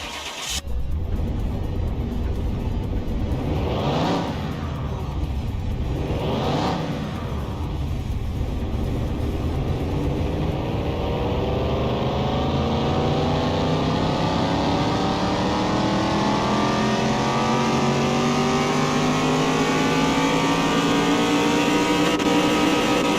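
A car engine in Car Mechanic Simulator 2021 is revved on a dyno, with two quick blips followed by a long, loud, steady pull that climbs continuously in pitch toward high revs, with no talking.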